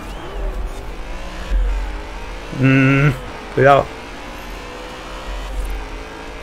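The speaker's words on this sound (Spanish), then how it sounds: "El coche está muy rápido, ¿eh?" Racing car engine from Forza Horizon 4, driven fast in an autumn Mazda event: a steady, humming engine drone runs throughout, while someone talks briefly over it in short bursts.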